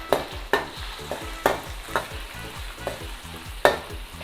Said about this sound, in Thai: ครับทอดไปเรื่อย ๆ นะครับ